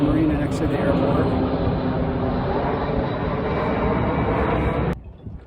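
A UPS cargo plane flying low over a marina next to an airport, a loud steady engine roar that cuts off abruptly, with someone talking over it.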